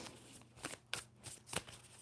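A deck of tarot cards shuffled by hand, with several quick riffling bursts in an uneven rhythm, close and soft in a quiet room.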